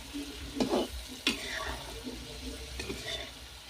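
Chappan kaddu (pumpkin) sabzi is stirred in a pan. A spoon scrapes through it in a few distinct sweeping strokes over a low, steady sizzle, close and moderately loud.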